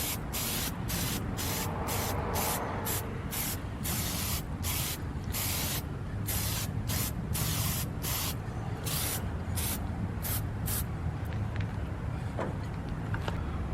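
An aerosol spray can hisses steadily and close up while applying a coat to car plastic trim, in a run of short and longer bursts separated by brief gaps.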